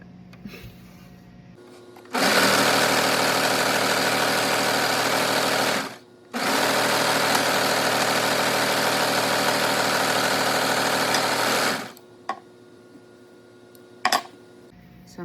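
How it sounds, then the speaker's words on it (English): A serger runs a seam on an Ellie and Mac Be Creative Hoodie, buzzing loud and steady in two long stretches split by a short pause, with faint handling noises after. "I'm just going to serge this, basically to lock in this stitch"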